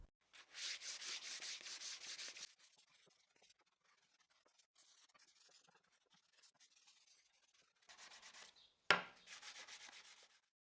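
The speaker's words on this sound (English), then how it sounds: "With a used 180 grit sandpaper, I will sand the edges." Hand sanding wooden piece edges with used 180 grit sandpaper, quick raspy back-and-forth strokes in close, quiet bursts separated by pauses, with one sharp knock near the end.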